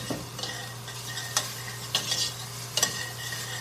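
Fresh garlic sautéing with onion and celery in a soup pot, a gentle steady sizzle broken by a few sharp spoon clinks and scrapes against the pot, with a low hum underneath.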